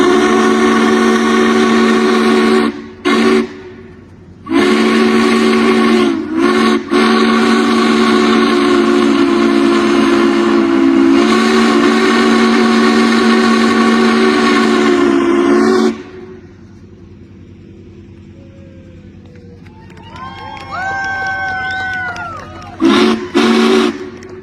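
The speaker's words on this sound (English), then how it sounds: "speaking of that whistle, here it is, turned up to full volume" A steam whistle on the 611 steam locomotive sounds loud and close in long sustained blasts, broken by short gaps, then fades to quieter rail and steam noise with a softer distant whistle toward the end.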